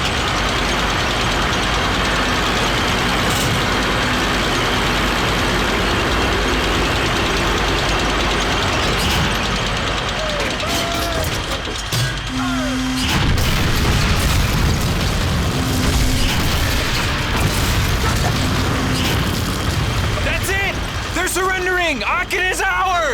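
Heavy booms and blasts ring out over rumbling engines as a big gun rolls in and fires in a Call of Duty: Finest Hour battle, with tank engines idling and voices talking throughout.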